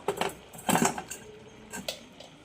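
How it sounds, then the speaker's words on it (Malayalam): Mustard seeds crackle and pop in hot oil, a few sharp irregular bursts over a soft sizzle, close by. "ഇനി കടുക് പൊട്ടിക്കാം"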